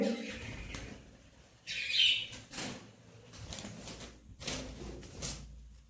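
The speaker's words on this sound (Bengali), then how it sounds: "এই পাখিটা তার মা বেরিয়ে পড়েছে ফাঁকে খোপ থেকে" A lovebird that has slipped out of its nest box gives a few short, high chirps at close range, mixed with rustling and brief bumps of wings and handling.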